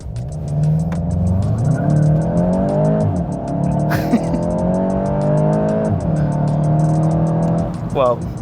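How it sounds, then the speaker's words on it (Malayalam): Volkswagen Golf GTI launching hard from a standstill with launch control, the engine revving and climbing through gears with brief shift dips, loud from inside the cabin, with people talking over it. "ഇതിൻ്റെ ലോഞ്ച് കൺട്രോൾ പ്രോഗ്രാം ആക്ടിവേറ്റ് ചെയ്തിട്ടുണ്ട്"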